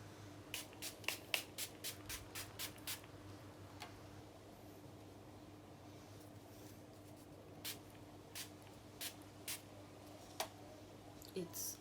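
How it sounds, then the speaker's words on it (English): Quick bursts of an e.l.f. cosmetics facial mist spray bottle, a rapid cluster of short sprays followed by scattered single spritzes, close and crisp over a quiet background. "I'm just gonna try out the mister first."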